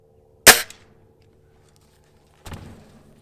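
A Feinwerkbau FWB Sport .177 air rifle fires over a chronograph with one sharp, loud crack, followed about two seconds later by a softer, duller thump.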